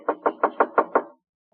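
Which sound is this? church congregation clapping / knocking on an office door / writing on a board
knocking on an office door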